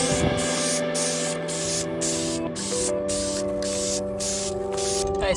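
Spray gun laying a base coat of paint onto an Infiniti Q50 one-piece front lip, a steady hiss broken into short repeated bursts over a constant mechanical hum.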